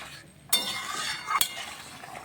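A spoon clinks against a cooking pot while vegetables are stirred and mixed, two sharp metallic taps over a soft, steady simmering and scraping bed, close and fairly quiet.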